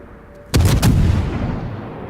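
Naval gunfire from warships in World of Warships: a single loud, close cannon blast after a quiet moment, followed by a rolling boom that fades slowly.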